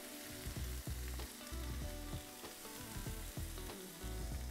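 Onion frying and softening in a pan for sierra en escabeche, a steady loud sizzle with crackling pops and occasional stirring clatter throughout, no voices.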